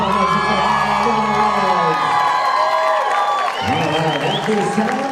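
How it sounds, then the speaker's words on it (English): Wedding guests clap and cheer with whoops under music and voices, a lively crowd reaction that swells, dips briefly, then picks up again. "Ladies and gentlemen, another big round of applause."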